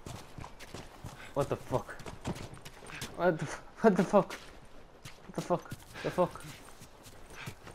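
Horse hooves clopping in The Last of Us Remastered, several short bursts of rhythmic clip-clop at moderate distance, mixed with a man's loud exclamations.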